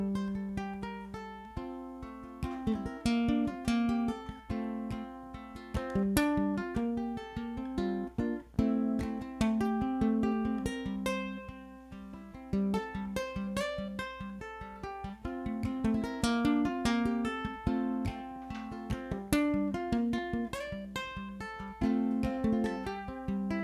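A solo blues performance of a song, with a steady, fingerpicked guitar pattern and a walking bass line that play alone without singing.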